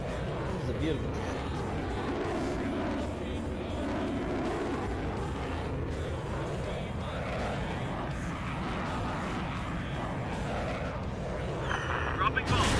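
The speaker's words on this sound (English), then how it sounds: "Dropping bomb." Bombs drop and explode in a Vietnam War combat game, a dense continuous rumble of blasts and roaring engine noise with no clear pauses, loud and close throughout.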